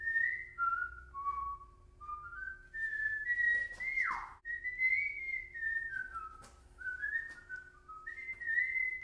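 A person whistles the Sesame Street tune alone, clear and close, with sliding notes rising and falling in a relaxed, continuous phrase.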